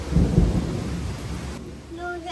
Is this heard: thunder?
yes